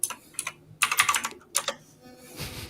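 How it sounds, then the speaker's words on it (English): A very loud computer keyboard clatters with rapid typing in bursts of sharp, close keystrokes, pausing briefly between flurries, with no talking over it. "Beppe has the loudest keyboard in the world."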